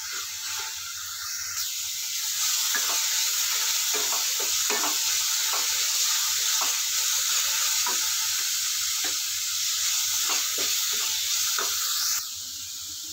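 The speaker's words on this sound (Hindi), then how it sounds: "इसको हम फिर से तीन से चार मिनट के लिए चलाते हुए पका लेंगे मीडियम फ्लेम पे" Masala for a stuffed parwal curry sizzles steadily in a pan over a medium flame, with a constant close frying hiss and repeated soft scrapes of a spoon stirring it, and no voices.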